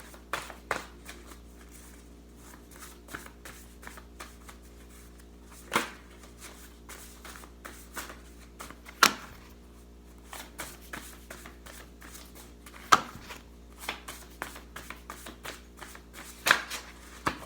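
Tarot cards are shuffled by hand in a quiet room, a soft run of riffling and light slaps with a few sharper taps spaced through it, close up and without voices.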